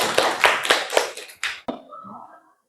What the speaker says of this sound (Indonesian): Aplaus untuk kelompok 4